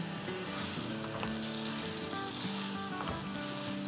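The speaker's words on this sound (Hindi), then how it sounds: "ये हम अपनी 2 pound whole chicken with the bone डाल देते हैं।" A two-pound bone-in whole chicken fries in hot masala over medium-high heat, giving a steady, close sizzle with faint tonal sounds underneath.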